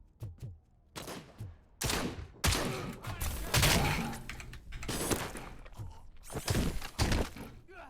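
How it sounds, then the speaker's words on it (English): Shotgun fire in Robocop: Rogue City: a series of heavy, close blasts mixed with crashing and shattering debris, irregularly spaced over several seconds. "We're going to use this shotgun up."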